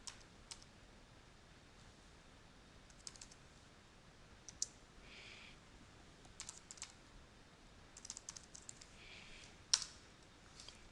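Quiet, sparse keystrokes on a computer keyboard while a command is entered at a command line interface, with scattered soft clicks and short bursts of typing over a faint background.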